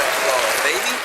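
A short burst of applause on a podcast celebrating its 100th episode, loud and steady for about a second before tapering slightly.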